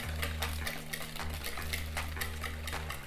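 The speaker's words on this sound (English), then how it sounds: "Go ahead and whisk." Cocoa is whisked into keto Oreo cake batter, a busy scraping and swishing against the bowl with a steady mechanical-sounding rhythm and a low hum beneath, close and moderately loud.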